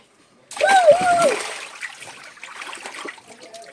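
Water poured into a container holding fish from a drained pond, a short splashing gush that tapers into trickles, with a voice briefly heard over the start.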